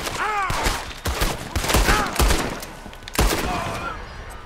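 Gunfire in Red Dead Redemption 2, a Western open-world game: several sharp, loud shots ring out at irregular intervals amid a chaotic skirmish, with shouted voices and cries mixed in between the blasts.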